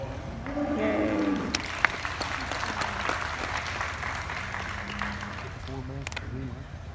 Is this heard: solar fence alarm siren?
no